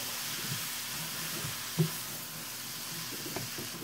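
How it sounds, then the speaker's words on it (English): Peppers and mushrooms sizzle in a pan as they are stirred, giving a faint, steady hiss with a single soft knock of the utensil partway through and no speech. "I'm gonna add my mushroom. I'm going to stir this up."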